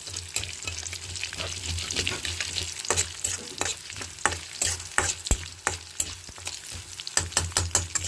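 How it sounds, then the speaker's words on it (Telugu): Cumin and other spices fry lightly in hot oil in a pan, making a dense crackling sizzle with frequent sharp stirring knocks and scrapes, close and without speech. "ఈ మూడు లైట్గా ఆయిల్లో వేయించేసుకున్నాం"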